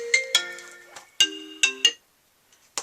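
A phone ringtone goes off during wreath crafting with glue dots, a melodic electronic tone with clear harmonic notes ringing in several bursts, then cutting off into silence before a faint bump at the end.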